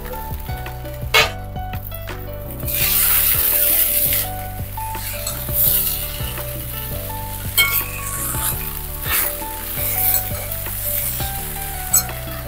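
Peanuts hit a hot pan and sizzle loudly, a bright, steady frying crackle broken by scraping stirs and the clink of a utensil against the metal, close and with no talking.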